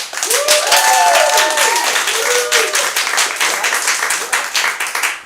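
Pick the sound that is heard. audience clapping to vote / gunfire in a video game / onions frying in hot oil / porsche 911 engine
audience clapping to vote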